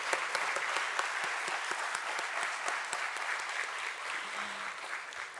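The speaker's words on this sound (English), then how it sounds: "Let's have a huge round of applause," An audience claps throughout a share listing ceremony in an indoor hall, a steady, moderately distant round of applause with individual hand claps standing out crisply.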